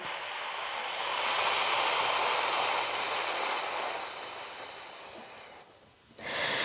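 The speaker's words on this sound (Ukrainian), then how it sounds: "Піднімаємось вдих, опускаємось видих." Deep, steady breathing during an abdominal exercise session: one long, loud, airy breath sustained for several seconds, then a brief pause and the start of another, close and alone without talk.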